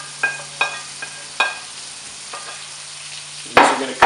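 Bacon cooking in a pan with onions added, a quiet sizzle broken by several separate sharp scrapes and clatters of a utensil against the pan, ending in a louder burst of stirring.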